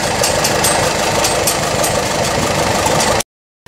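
A 1951 Minneapolis Moline Model U tractor with a narrow front end runs steadily at idle, its engine producing a close, even, continuous rumble with a faint knocking texture before cutting off abruptly near the end.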